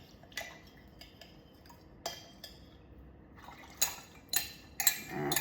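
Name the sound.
pickling liquid poured into a pan, scraping the bits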